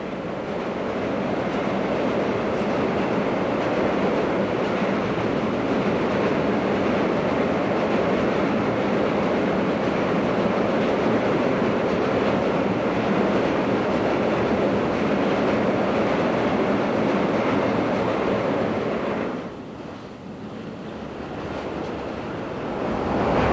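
A long freight train hauled by a 1300 class electric locomotive in the Netherlands rolls past steadily and loudly for over twenty seconds, a continuous rumble of wagons that eases briefly near the end before swelling again.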